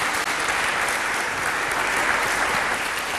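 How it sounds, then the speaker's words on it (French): Audience applause at a university student competition semi-final, dense steady clapping from a large crowd filling the full stretch without pause. "Sous vos applaudissements, s'il vous plaît."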